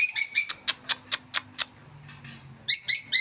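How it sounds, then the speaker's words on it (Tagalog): African lovebirds chirp and squawk nearby, bursts of shrill high calls, a quick series of sharp chirps, then more chattering squawks at the end. "Mustahin ko naman yung mga African lovebirds ko, mga kalabirds."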